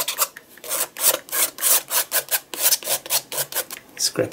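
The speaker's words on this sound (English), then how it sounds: "I'm just going to grab that and just scrape it" A small spatula rasps acrylic paint over an art journal page in quick, regular back-and-forth strokes, close and fairly loud throughout.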